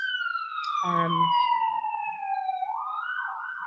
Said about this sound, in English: that siren, I am told, is to indicate that this is a particularly important point